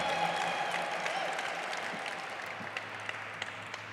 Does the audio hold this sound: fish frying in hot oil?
no